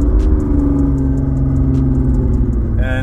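A Toyota RAV4 engine runs at steady high revs with the throttle floored and the brake lightly pressed. It makes a loud, continuous drone with a faint ticking over it, and a brief tonal whine comes in at the end.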